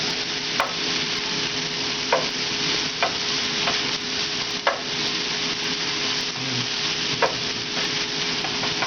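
Steak thermidor sauce ingredients sizzling in a pan over high heat, a loud continuous frying hiss with occasional clicks and scrapes of stirring, close by.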